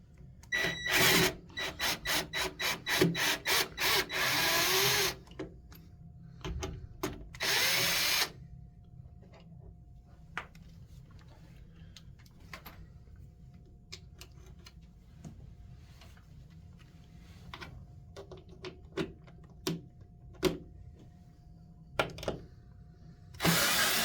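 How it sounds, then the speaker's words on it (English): A power drill with a 3/8 socket on a ratchet wrench removes the bolts and nuts holding a window motor, giving a loud burst of rapid drilling followed by scattered ratchet clicks and handling knocks at close range. "You're gonna use your drill and a 3/8 socket wrench or a 3/8 ratchet wrench to remove the bolts and nuts."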